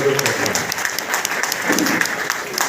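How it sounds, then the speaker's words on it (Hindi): An audience at a health meeting claps loudly, a dense steady patter of many hands that keeps going evenly through the whole moment. "इसके लिए जोरदार ताली होनी चाहिए"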